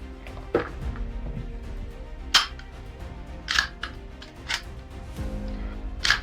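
Air gun firing pellets at a box target, several sharp snapping shots spaced a second or so apart with metallic clicks and handling noises between, close and fairly quiet.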